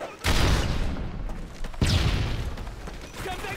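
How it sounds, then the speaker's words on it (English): A flashbang grenade detonating in a shooter game on a village map: two loud, blasting booms with rumbling tails, the first early and the second about a second and a half later. "Tossing a flashbang!"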